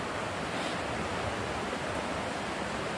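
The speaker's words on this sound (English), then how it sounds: "So there are actually two waterfalls that come together here." Dense, steady rushing water roars without pause, a broad continuous wash from two nearby waterfalls joining together in Vogel State Park.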